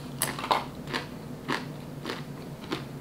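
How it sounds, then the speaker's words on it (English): Someone eats garlic parmesan pretzel crisps, with sharp close crunches and bites recurring about every half second over a quiet background. "I also did get these garlic parmesan pretzel crisps."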